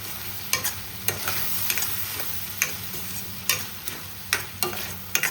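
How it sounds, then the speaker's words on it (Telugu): A spoon stirring prawn curry in a pan, repeated sharp scrapes and clicks against the metal at an uneven rhythm over a soft, steady sizzle. "ఇవన్నీ ఒకసారి కలుపుకుందాం"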